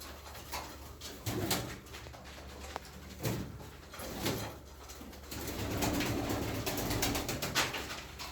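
Gittiler pigeons in a loft cooing softly, low repeated coos with scattered wing flaps and shuffling, fairly faint and close, with occasional louder bursts of movement.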